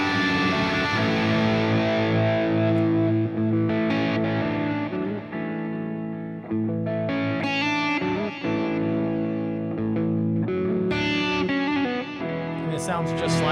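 An Ed Van Halen signature electric guitar played through an EVH-SDE3000 effect, heavily distorted with chorus and echo, in continuous loud riffs and sustained bent notes over more than ten seconds.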